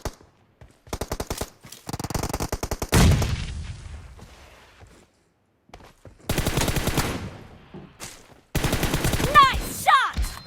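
Video game gunfire, with loud rapid bursts of automatic fire, a heavy blast that rings out and decays, and more bursts and single shots later, close and dominant.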